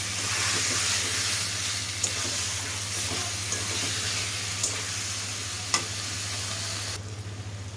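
Meat and onions stirred in a frying pan give a loud, continuous sizzle and hiss, with a low steady hum beneath and a few clear scrapes and knocks, close by and without talking, before the sizzle thins at the end.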